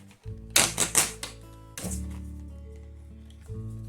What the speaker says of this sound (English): I've got a mixed media art pad here, which I'm going to take one of the pages out